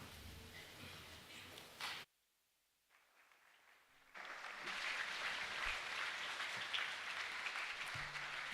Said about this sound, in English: we'll give them a big round of applause to welcome them.